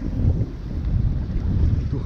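Steady wind rushing across a sailboat at sea off Torrevieja, Spain, in a roughly 10-knot westerly, a low continuous buffeting roar without voices.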